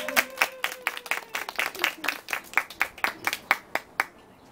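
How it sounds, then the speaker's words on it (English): A small audience at a doula graduation and certification ceremony claps in sharp, distinct hand claps that start dense, then thin into separate spaced claps before fading out; a few voices murmur faintly underneath. "Big applause."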